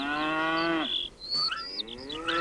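A cow moos twice up close, a long low call followed by a higher, wavering one, with no talking.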